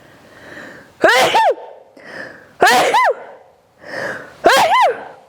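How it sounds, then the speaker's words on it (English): Three loud sneezes close up, evenly spaced about a second and a half apart, with quiet breathing between them. "I'm about to sneeze."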